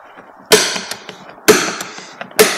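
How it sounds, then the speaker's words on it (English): An automatic centre punch used as a small hammer knocks pins out of a handle, giving three sharp, close metallic taps about a second apart with faint knocks in between. "use it as a small hammer and punch the pins out."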